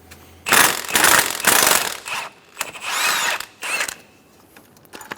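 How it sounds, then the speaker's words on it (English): An impact tool with a 14mm socket removes the upper transmission mount bolt on a 2003-2007 Honda Accord 3.0L V6, running in about six loud, close bursts of whirring and rattling separated by short pauses. "Using a 14mm socket, remove the top bolt for the mount."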